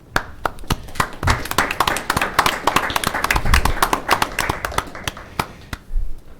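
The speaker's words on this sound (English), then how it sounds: "It's weird to have a round of applause after a proclamation" Audience applause at a Henderson County Fiscal Court meeting following a proclamation on protecting children from abuse: a room of people clapping steadily and fairly close, with individual sharp claps standing out throughout.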